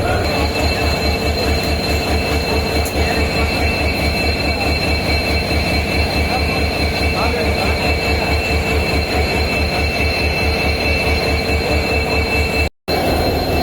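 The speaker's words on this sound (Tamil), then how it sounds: "காரைக்குடி திருவாரூர் பேசஞ்சர் பார்த்தீங்கன்னா இங்கே தான் கிராசிங் இருக்கும்." A Karaikudi–Tiruvarur passenger train near a level crossing rolls along with a steady, loud, rhythmic wheel clatter and a droning hum, continuous for the whole stretch with no voices.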